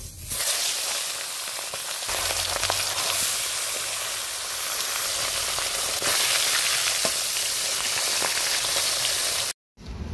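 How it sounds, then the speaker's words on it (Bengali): Fish rubbed with salt and turmeric sizzles in hot oil with a loud, steady, close crackling hiss that carries on for the whole stretch, broken only by a brief cut near the end. "ওদিকে মাছ ভাজা হচ্ছে"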